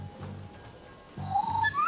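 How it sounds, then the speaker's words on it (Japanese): A short chirping bird call in the video game Shadow Tactics: Blades of the Shogun rises and warbles over low background tones, brief and fairly clear, with no talking. "鳥の声。"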